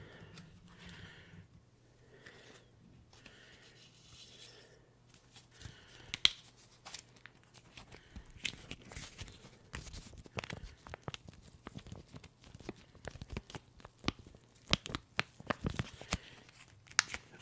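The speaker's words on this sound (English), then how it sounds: "I already know that I am starting with the scissors." A pair of scissors is handled up close in a quiet room, producing a series of sharp metallic clicks, snips and light rustles that grow busier in the second half, with faint soft speech near the start.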